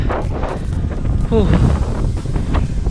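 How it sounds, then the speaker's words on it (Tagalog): Heavy wind buffets the microphone with a low, rumbling roar on a mountain hiking trail in Laguna, while a voice speaks briefly in Filipino underneath. "Ang lakas pa ng hangin oh."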